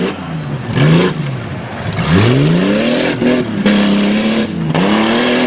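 A rough truck's racing engine at a county fair track revs loudly and repeatedly, rising and falling in pitch as the driver accelerates and lifts off, close by and harsh, with no voices over it.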